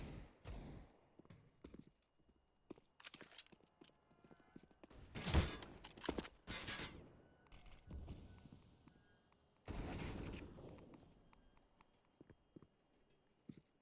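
Gunfire bursts, including Desert Eagle shots, in a Counter-Strike match on the Train map, heard as quiet, scattered sharp reports with a couple of denser clusters, no commentary audible over them.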